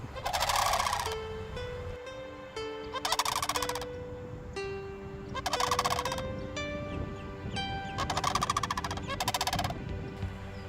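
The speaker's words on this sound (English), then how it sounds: "You can hear the sandhill cranes behind me" Loud, rattling bird calls burst out in repeated bouts, sandhill cranes trumpeting close by in Florida with steady pauses between each outburst.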